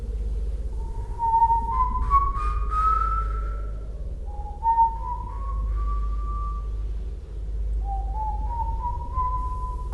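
A person whistles a song alone, clear sliding melodic phrases in three rising runs over a low steady hum, moderately close.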